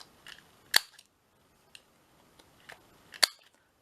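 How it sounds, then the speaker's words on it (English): A small hand-held corner punch snaps through the corner of a paper or card sheet, giving two sharp, close clicks about two and a half seconds apart, each with softer handling sounds around it in a quiet room. "I'm going to take my little corner punch"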